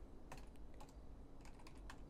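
Quiet taps on a computer keyboard while setting key binds in a game's F8 console, a few scattered keystrokes in short clusters with soft background hum and no talking.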